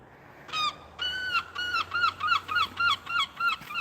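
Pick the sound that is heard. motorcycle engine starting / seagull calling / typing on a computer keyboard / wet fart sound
seagull calling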